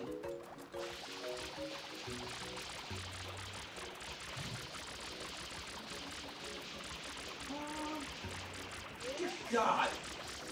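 Spraying water from FLUDD in Super Mario Sunshine on a beach, a steady gushing, pouring rush under game music, with a voice briefly exclaiming.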